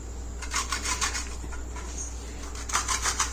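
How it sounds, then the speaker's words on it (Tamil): Mango seed grated on a carrot grater, two short bursts of quick, soft rasping strokes separated by a pause, heard up close over a low background hum. "இந்த மாதிரி நல்லா கேரட் துருவுறதுல சீவிக்கோங்க"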